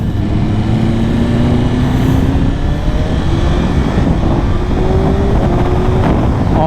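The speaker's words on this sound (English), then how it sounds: "This is hands down the smoothest bike I've ever ridden." A 2024 BMW S1000RR superbike ridden on a cold day, its engine holding a steady loud drone with rising pitch as it revs, mixed with heavy wind rush throughout.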